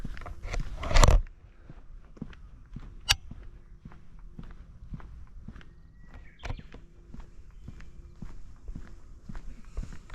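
Footsteps walk through a village in Japan, a steady series of crisp, close steps with a brief louder scuffle near the start and occasional sharper knocks.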